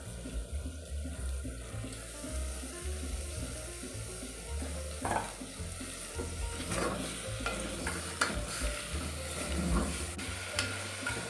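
Mutton pieces stirred into a sizzling mixture of fried ginger garlic paste in a pot, with a steady frying crackle and scraping spoon strokes that recur through the whole stretch, up close and with no talk.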